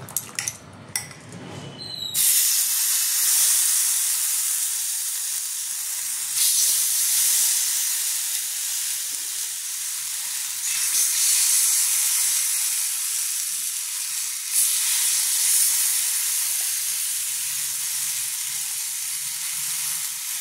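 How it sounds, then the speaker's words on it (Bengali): Masala-coated fish tikka pieces dropped into a lightly oiled hot pan, setting off a loud, steady hiss and sizzle that stays near and continuous, with faint utensil clinks at the start. "এবারে মাছগুলো একে একে ছেড়ে দেবো। দেখো মশলা মাখা মাছগুলো সুন্দর করে দিয়ে দেবো।"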